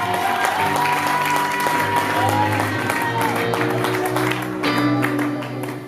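Applause from an audience at a French-language comedy sketch about a quarrelsome woman, steady and sustained throughout, with voices and crowd noise mixed into the clapping.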